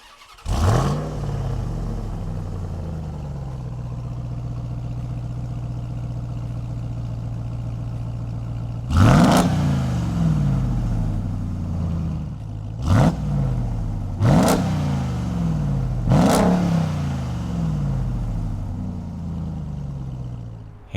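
A 2020 Ram 1500 TRX truck engine fires up with a loud rev, settles into a steady idle, then snaps through four sharp throttle blips near the end, each rising and falling quickly.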